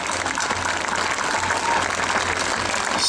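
Steady applause and ovation from a large crowd at a rally on Maidan square in Kyiv, dense and continuous throughout at a constant level.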